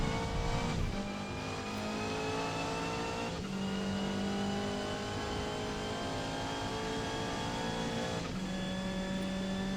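A Subaru Levorg GT racing in Forza Motorsport at the Nürburgring, its engine droning steadily at high revs, with gear shifts and brief dips at a few points, in a continuous loud in-game roar.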